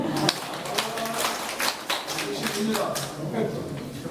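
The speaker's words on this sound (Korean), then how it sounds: "어르신께서 박수 좀 부탁드립니다." Applause from elderly audience members at a Gyeongbuk gubernatorial candidate's vision declaration event, a dense, fairly quiet patter of clapping with talk mixed in.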